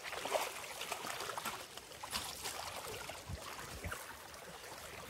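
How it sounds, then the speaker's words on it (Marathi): A small stream in a forest near Alibag trickles and gurgles steadily, faint and continuous, with no voices over it. "छोटासा झरा भेटलेला."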